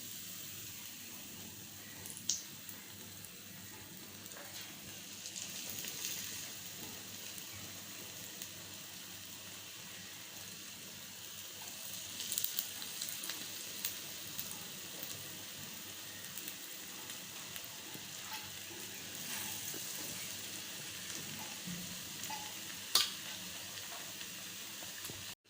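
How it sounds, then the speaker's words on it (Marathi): Brinjal slices coated in gram-flour batter fry in hot oil, giving a steady, moderately faint sizzle with a soft crackle throughout and a few brief louder pops, no voices. "वांग्याची स्लाइस अशी बेसनमध्ये हे करायचे आणि तेलात सोडायचे."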